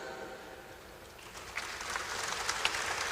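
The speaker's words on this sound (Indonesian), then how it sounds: "Bapak Zulkifli Hasan, kita berikan tepuk tangan." Applause for Bapak Zulkifli Hasan at a formal West Java gathering rises from quiet into a scattered, moderate clapping that builds over a few seconds.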